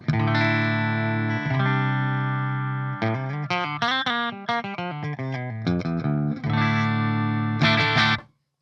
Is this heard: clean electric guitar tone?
yes